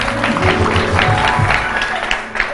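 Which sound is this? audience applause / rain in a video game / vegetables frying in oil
audience applause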